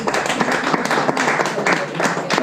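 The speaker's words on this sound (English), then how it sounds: "Give a round of applause for our meeting tonight." Audience applause at a bar comedy night, dense steady clapping from a nearby crowd filling the whole stretch with no pauses.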